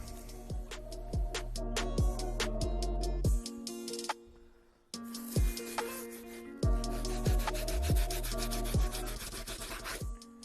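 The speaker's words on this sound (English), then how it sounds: "Let's move on to our last brush, which is our stiff bristle." Stiff bristle brush scrubbing the soles of Air Jordan 1 sneakers, producing loud rhythmic rasping strokes in quick repeated bursts with a brief pause midway.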